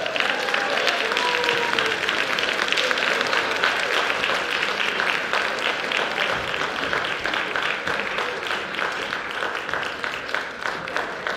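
Sustained, dense audience applause fills a school assembly hall honoring Martin Luther King Jr., steady and loud throughout with a faint voice or two underneath.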